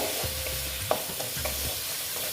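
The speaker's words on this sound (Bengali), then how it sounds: "একটু কষিয়ে নিচ্ছি মশলাটা" Spices with Kashmiri red chilli powder being sautéed in a pan for a pumpkin dish tempered with panch phoron, giving a soft sizzle with a few stirring scrapes, brief and close.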